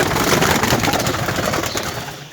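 Bango pigeons coo in a coop, a dense, continuous murmur of overlapping calls from several birds close by, fairly loud and steady throughout.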